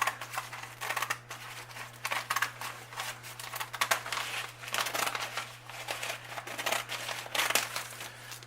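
Scissors cutting through a plastic craft bag, a continuous run of crinkly snipping and crackling plastic close by over a steady low hum, with no voices.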